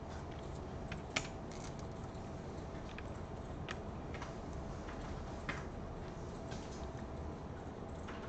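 Computer keyboard keys pressed in scattered, irregular taps, quiet and close over a steady background hiss during Photoshop editing.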